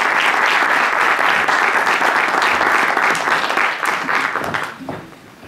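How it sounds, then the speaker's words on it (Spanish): Loud, close audience applause at a flamenco event, sustained dense clapping that holds for several seconds and then tapers off toward the end. "Un aplauso para ellos."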